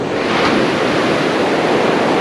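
Rough surf crashes and rolls up onto a St. Barts beach tucked in a small valley, a steady, loud wash of breaking waves with a little wind noise over the microphone and no voices.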